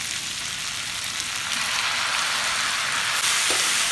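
Chopped tomatoes going into onions frying in oil for tomato chutney, a steady loud sizzle filling the pan with a brief clatter near the end; no talk.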